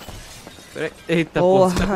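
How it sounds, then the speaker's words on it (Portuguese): Glass shatters inside the GTA V video game, a sharp bright breaking burst near the end while someone talks excitedly over it. "Que barulho é esse de vidro quebrando?"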